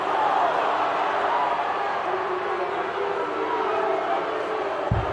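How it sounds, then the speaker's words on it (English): A football video game crowd in FC 25 murmurs and groans in frustration, a dense, steady stadium roar of many voices with no single standout shout, spread evenly across the scene. "The crowd is showing their frustration."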